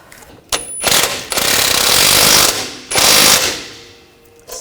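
A wrench on the rear lower outer ball joint bolts of a 2000-2006 BMW X5 suspension, loud close rapid ratcheting bursts in two main runs with short pauses between, no talk.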